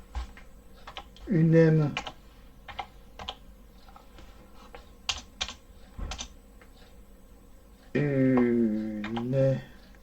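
Keys clatter in short irregular bursts on a computer keyboard while typing into a Linux terminal, close and crisp, with someone speaking briefly between the keystrokes.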